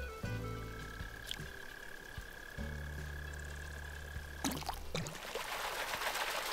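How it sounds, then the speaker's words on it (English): A frog croaks in Animal Crossing: New Horizons as a rhythmic low burbling call, broken off halfway and then resumed, over a steady game background hum, followed by a brighter splash-like rush at the end. "It's a frog."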